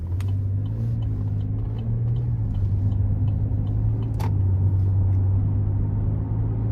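A 2018 Chevrolet Traverse LT AWD with the 3.6 engine drives along, its steady low engine and road rumble continuous throughout, with smooth gear shifts blending into the drone and no talking.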